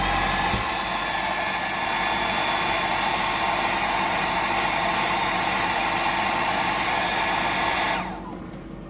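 A hair dryer blows steadily and loudly for about eight seconds while drying a freshly cut 175mm mullet haircut, its broadband roar holding even before cutting off near the end.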